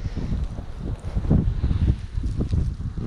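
Strong wind gusts buffet the microphone outdoors on a frozen lake during ice fishing in March, a loud, uneven rumbling roar that swells and dips throughout.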